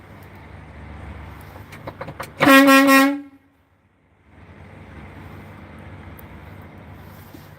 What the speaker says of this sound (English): blow the air horn for you